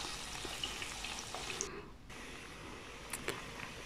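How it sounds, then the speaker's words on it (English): Onions frying in oil for a Nigerian chicken and beef stew, a soft, faint steady sizzle with a few light clicks, no talk. "I'm going to start by adding the onions to the oil."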